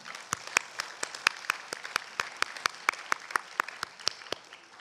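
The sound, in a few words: applause at a church worship service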